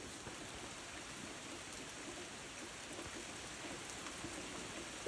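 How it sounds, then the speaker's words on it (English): Steady rain falls in the woods around a house with a porch, a soft, even hiss of drops on surfaces that holds constant throughout with no voices. "Are you enjoying the rain, Borealis?"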